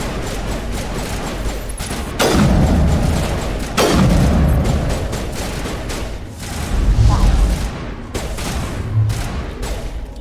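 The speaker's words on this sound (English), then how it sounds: "I can still use the sniper rifle" Heavy booming gunshots in Mass Effect Legendary Edition, several loud sharp reports spaced a second or two apart with echoing tails, over a busy background of combat noise.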